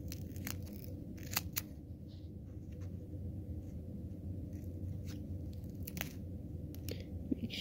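Scissors snip around a homemade paper sticker for Thanksgiving with a few quiet, scattered crisp cuts over a soft, steady room hiss.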